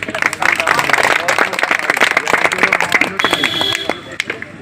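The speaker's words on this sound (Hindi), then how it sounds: "आप लोग जोरदार ताली बजाएं।" Loud, dense clapping from a crowd at a village gathering in Himmat Kheda, Malihabad, Lucknow, with sharp individual claps standing out and cries mixed in, sustained throughout and easing slightly near the end.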